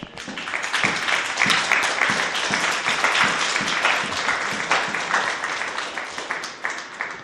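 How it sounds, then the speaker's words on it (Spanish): Congregation applause during a sermon, dense rhythmic clapping from a crowd that swells and holds steady for several seconds before easing slightly. "Denle un aplauso al Rey"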